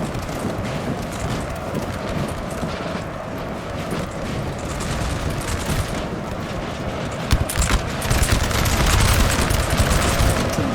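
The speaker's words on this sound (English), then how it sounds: "Some deadly close volleys." Musket volleys crackle in a large 4v4 Napoleon: Total War battle, with dense overlapping rifle fire and battlefield rumble running continuously and growing heavier toward the end.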